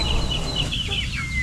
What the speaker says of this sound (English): I've got a black hen back there she's clearly broody